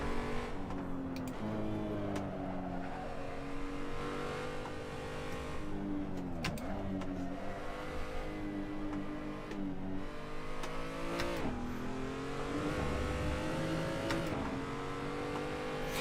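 A BMW race car in the Assetto Corsa racing game drones on steadily, its engine pitch rising and falling through gear changes and throttle lifts, loud and continuous with no talk over it.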